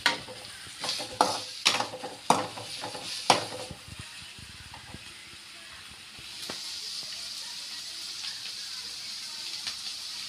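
Carrot and green chilli fry in a pan for egg fried rice, with several clanking stirs at first, then a steady hiss of sizzling that grows louder near the end.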